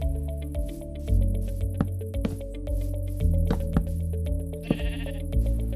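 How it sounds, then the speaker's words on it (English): Sheep in the Minecraft video game bleat repeatedly, clear and loud, over a steady layer of tonal game music, with no voices. "And you can keep some extra sheep here"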